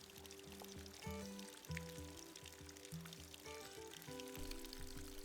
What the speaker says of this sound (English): get out a little glass bottle and fill it up to have a fresh sip of the mountain water